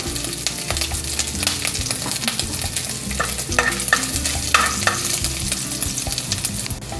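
Garlic and ginger sautéing in a pan for Bicol Express, a loud, continuous close-up sizzle with busy stirring and scraping throughout.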